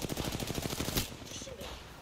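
Rapid automatic gunfire from a battle royale video game rattles in a steady burst for about a second, then cuts off, leaving quieter in-game ambience and faint distant effects.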